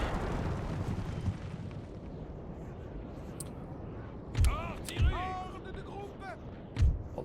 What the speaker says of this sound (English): the cannons are ripping away their general